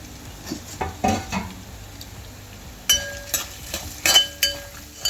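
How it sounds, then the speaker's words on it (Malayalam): Grated coconut roasting in a pan is stirred with a metal utensil in a home kitchen, giving irregular scraping clinks and light clatter over a soft sizzle, close and moderately loud. "തേങ്ങ നമുക്ക് വറുത്തെടുക്കാം."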